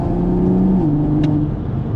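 Tuned 480hp Toyota Supra with an FBO setup, E30 map and valvetronic exhaust, valve closed, gives a steady close-up engine drone with a slight pitch drop and a brief crackling pop near the middle.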